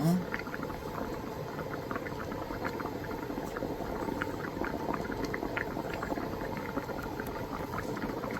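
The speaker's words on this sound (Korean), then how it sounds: "이쯤에서 조금 더 호박을 지금 넣었으니까 조금만 더 끓여주시고 나서 좀 이따 간을 볼게요." Pumpkin soup bubbles steadily in a pot, a continuous soft simmering burble with small pops, fairly close and quiet, with no talking over it.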